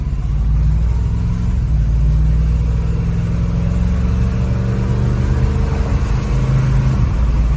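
A 1947 Chevrolet Fleetmaster engine revs and roars steadily up close, a loud continuous rumble with rising pitch and no talking.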